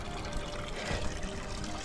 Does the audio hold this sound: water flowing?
yes